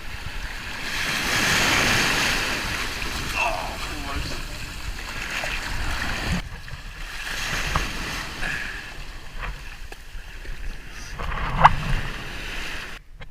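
Ocean waves surge and break in the surf zone on a scuba dive entry, a loud washing roar with splashes rising and falling under occasional voices.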